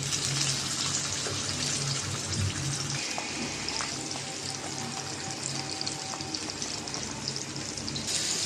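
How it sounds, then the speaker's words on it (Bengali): Pabda fish frying in hot oil on a tawa pan, a continuous close sizzle and hiss with fine crackling that holds steady from start to finish, no speech over it. "তেলটা গরম হয়ে গেছে মাছটা দিয়ে দিলাম"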